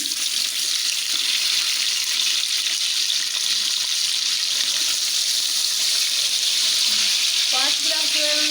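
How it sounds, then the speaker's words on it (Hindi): Chicken and onions fry in a pot, giving a dense, continuous sizzling hiss at moderate loudness with no pauses. "चिकन जो मैंने डाला था वो प्याज के साथ ही फ्राई हो चुका है"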